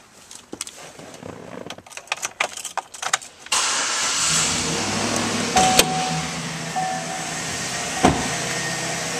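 A 2012 Chevrolet Silverado 1500 LTZ crew cab 4WD pickup: keys and cabin clicks, then the engine cranks and catches, settling into a steady idle with a couple of brief sharp knocks, heard close from inside the cab.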